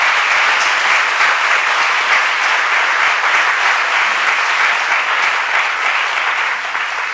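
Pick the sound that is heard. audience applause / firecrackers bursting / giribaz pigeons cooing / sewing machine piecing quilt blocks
audience applause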